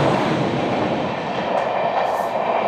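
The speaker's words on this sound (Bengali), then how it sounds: "এটা হচ্ছে স্বর্ণ জয়ন্তী রাজধানী আহমেদাবাদ থেকে নতুন দিল্লি।" The Swarna Jayanti Rajdhani train from Ahmedabad to New Delhi rolls through Delhi Sarai Rohilla station, a loud continuous rumble of wheels and carriages close by, with faint squeals near the end.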